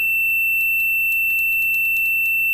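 An electronic beeper wired into a simple button circuit sounds a loud, steady high-pitched tone, with small irregular clicks scattered over it.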